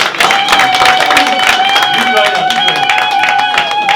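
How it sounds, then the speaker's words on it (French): An audience at a Belgian investiture ceremony applauds and cheers, with loud continuous clapping in a large room and raised voices and whoops layered over it throughout. "Sous vos acclamations"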